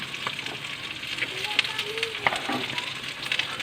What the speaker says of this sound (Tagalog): At sa wakas, andyan na rin ang luya.